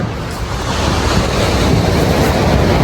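Sea waves wash steadily onto a beach, a loud broadband rush that grows slightly stronger, with wind buffeting the microphone and no voices.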